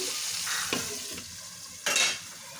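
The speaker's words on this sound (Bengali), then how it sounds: "আবার একটা ঢাকনার সাহায্যে ঢেকে নিয়ে ভেজে নেব।" Tomatoes fry under a lid in a pan for a cauliflower bharta, giving a steady close sizzle with a few soft clinks and stirring scrapes and one louder hiss burst near the end.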